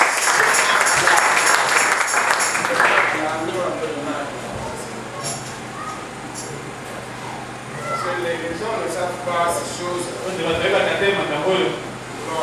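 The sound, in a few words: applause for the Lord in a sermon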